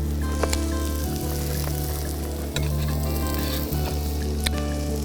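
Potatoes tipped into softened onions frying in a cast iron skillet, giving a strong, close, steady sizzle with occasional scraping stirs over a constant low hum.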